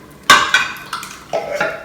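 Metal spoon scraping and knocking coconut milk out of two cans into an Instant Pot, several sharp clinks and scrapes in quick bursts, close and clear with no talking.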